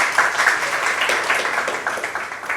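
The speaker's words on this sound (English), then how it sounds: "A huge round of applause, everyone" Applause from an audience welcoming a keynote speaker at a talk on grassroots innovation, a fairly close, continuous patter of many hands clapping at an even level throughout.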